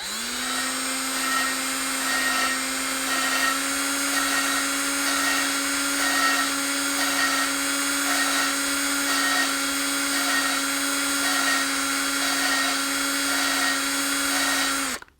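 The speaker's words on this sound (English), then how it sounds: "So you don't want the drill to be too fast." A power drill turns a valve lapping tool against an engine valve on a 400 cubic inch small-block Chevy build. It gives off a steady, continuous high whine for about fifteen seconds with a slight pulsing wobble, then stops abruptly.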